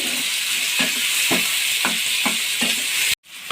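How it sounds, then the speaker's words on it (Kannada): A tomato and roasted gram masala sizzles steadily in a pan for a village-style avarekalu chicken sambar, with regular scraping stir strokes about every half second. Close and continuous, it cuts off abruptly near the end. "ಟೊಮೊಟೊ ಫುಲ್ಲು ಸಾಫ್ಟ್ ಆಗೋ ಗಂಟ ಫ್ರೈ ಮಾಡ್ಕೋಬೇಕು"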